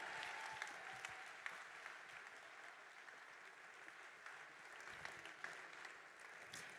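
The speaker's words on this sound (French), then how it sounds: "On peut les applaudir très fort." A theatre audience claps for actors and a film crew called up on stage, producing a faint but steady, continuous round of applause with occasional sharper claps rising above it.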